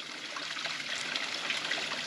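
Water rushes steadily through the propeller at the base of a stone watermill in the Tzoumerka area near Arta, a continuous close splashing trickle with no voices.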